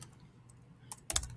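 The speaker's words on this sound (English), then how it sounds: "is the problem of typing live." Typing on a computer keyboard during a programming lecture: a few soft scattered keystrokes, then a brief louder burst of clicks near the end, close by and with no talk.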